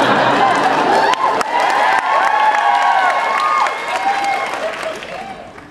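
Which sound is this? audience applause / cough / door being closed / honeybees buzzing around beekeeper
audience applause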